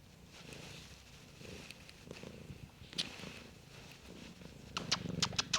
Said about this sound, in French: Là, il y a mon chaton, mon petit chat.